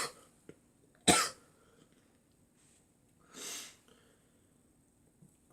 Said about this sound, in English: It's just this cough that keeps coming.